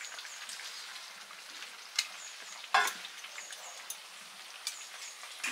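Fish going into boiling home-cooked fish curry, a steady soft simmering hiss with scattered bubbling pops and one louder splash-like burst near the middle, fairly quiet and close with no talk.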